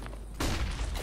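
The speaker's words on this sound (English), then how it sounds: "Throw in a flashbang!" A flashbang grenade in Counter-Strike: Global Offensive goes off with a sudden loud burst after a quiet moment, followed by a sustained bright ringing wash that carries to the end.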